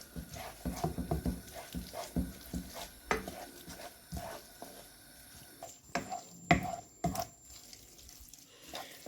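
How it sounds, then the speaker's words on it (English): Spaghetti with anchovies and cherry tomatoes stirred in a pan, with clattering scrapes and soft sizzling, loud irregular knocks of the utensil against the pan, and a running tap in the background. "just dump the pasta on it. Well, and then stir it up."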